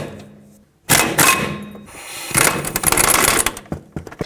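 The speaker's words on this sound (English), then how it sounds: "with an 18mm socket, remove these 2 bolts, and that holds the bracket onto the knuckle" An 18mm socket and ratchet remove the caliper bracket bolts on the front hub of a 2005-2009 Chevy Equinox. Close metallic clanks and clicks of the tool on steel come in bursts, with brief quiet gaps between them.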